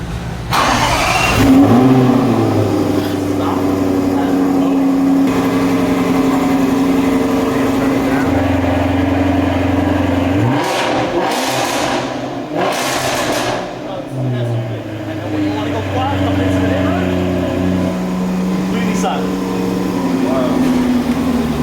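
A loud Ferrari engine with a full aftermarket exhaust, catback and intake idles, then revs hard several times in sharp roaring bursts before settling back to a rumbling idle.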